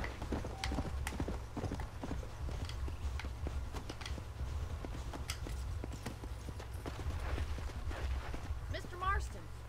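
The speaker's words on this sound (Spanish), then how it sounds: "Okay, nos vamos en el caballo." Horse hooves clip-clop steadily at a riding gait in the Western video game Red Dead Redemption, a continuous rhythmic patter under a low engine-like rumble, with a snort or whinny near the end and speech heard around it.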